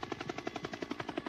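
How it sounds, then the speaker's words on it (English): A film sound effect in which a ceiling fan's whir turns into a helicopter: a steady, rapid chopping pulse, about seven beats a second, fairly loud and alone. "Now they begin to coalesce, and they turn into a real helicopter coming from a fan."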